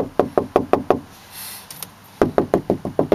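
Two bursts of quick, evenly spaced knocks on a hollow car door panel, about six raps each, separated by a short pause; close and fairly loud.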